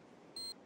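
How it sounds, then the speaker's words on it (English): A single short, high electronic beep from the bomb defuse in the mobile shooter game Standoff 2 sounds clearly on its own over a quiet background. "Bomb has been defused."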